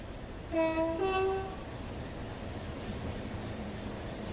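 A Freightliner class 66 'shed' freight locomotive passes in Train Sim World, sounding a two-tone horn close by before a steady rumble of rolling wagons takes over, with no speech.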